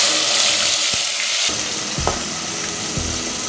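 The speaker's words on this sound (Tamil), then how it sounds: "சின்ன வெங்காயத்தோட பச்சை சுமர் போடுற வரைக்கும் வதக்கிக்கோங்க" Shallot paste sizzles steadily in hot oil with fenugreek and curry leaves for a fish curry, with a bright continuous crackle and a few clinks of a stirring spoon against the pan.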